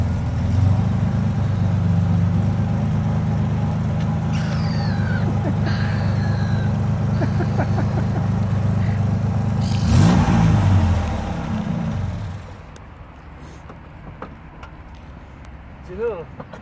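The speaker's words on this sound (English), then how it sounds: "that exhaust is definitely blowing" A Ford Capri at a modified car meet idles with a leaking, blowing exhaust and gets a sharp rev near the middle, while people talk nearby before the engine drops away.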